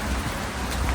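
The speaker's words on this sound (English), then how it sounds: "it depends how heavy the rain gets" Rain falls steadily outdoors during a dog walk, a soft constant hiss of drops on surfaces with no voices.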